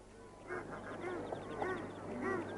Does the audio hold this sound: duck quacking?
yes